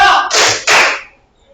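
A classroom of students claps a two-beat pattern on a teacher's cue, two loud, broad bursts in quick succession, close and sharp, then silence.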